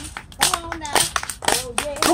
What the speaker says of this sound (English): Clap your hands, everybody.